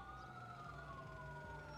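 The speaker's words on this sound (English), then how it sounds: "I hear so many sirens, this is about to hop off" Police sirens wail steadily in the distance in the GTA 5 video game, set in the Grove Street neighbourhood, faint and continuous with no talk over them.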